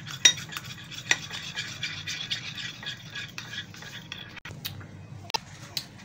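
A spoon stirs mayonnaise, chili garlic sauce and mustard together in a bowl for zinger burger sauce, making soft wet squelches and sharp clinks against the bowl, close up and without speech.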